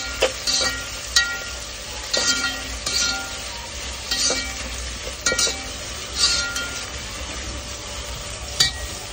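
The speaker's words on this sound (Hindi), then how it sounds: "और अभी मैं इसमें ऐड करूँगी मेरी अनियंस या हमें लाइट पिंक करना है" Onions sizzle in a pan for an Arabian mazboos pulao, a steady frying hiss broken every second or two by the clinking scrape of a spoon stirring against the pan.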